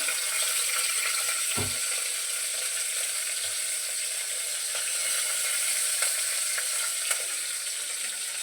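Continuous hissing sizzle of curry leaves and garlic frying in hot oil for tempering, even and fairly close, with an occasional soft knock.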